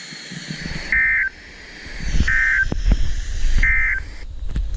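Weekly test of a weather radio warning alarm system from Northwest Georgia: three short, loud, steady electronic tone bursts, evenly spaced, over a background of low rumbling noise.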